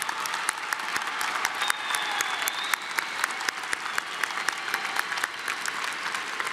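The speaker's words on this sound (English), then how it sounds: "Will the audience please join me in applauding the achievements of these honor graduates?" An audience at a December commencement ceremony applauds honor graduates with sustained, dense clapping that holds steady throughout, some individual claps sharper and nearer than the rest.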